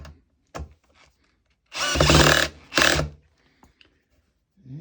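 A Bosch 12V drill driver drives a bugle head screw into wood with its clutch set to 20. Two short, loud whirring bursts are separated by a brief gap, with a few faint clicks and knocks around them.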